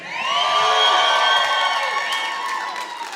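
Comedy show crowd at the Crown Uptown Theatre cheering and whooping loudly, a sustained swell of shouts and screams that peaks early and slowly tapers off.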